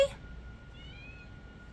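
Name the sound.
cat meowing, crying for her toy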